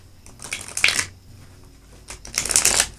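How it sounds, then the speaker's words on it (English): Tarot cards being shuffled in two brisk bursts of riffling, a pause of quiet between them, close and fairly loud with no talking. "Come on, cards, you can take a little more shuffling."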